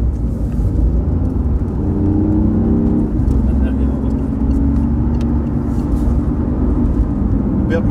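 A steady BMW i8 engine rumble and whir drone on continuously, rising slightly in pitch midway as the car accelerates, fairly close and loud.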